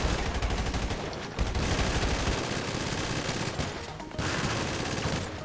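Dense, continuous gunfire from pistols and rifles during the Doomsday heist in GTA Online, a loud sustained barrage of rapid shots with brief lulls near 1.4 and 4 seconds.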